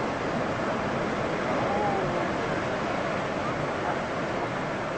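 Waves surging and washing after a glacier calving, heard as a steady, loud broadband roar of churning water with wind buffeting the microphone throughout.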